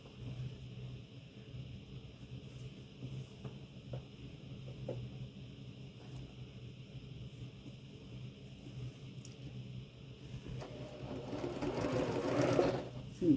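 A sewing machine stitches quilt pieces with a quiet, steady hum that grows louder in a short burst of stitching near the end, with soft handling noises throughout.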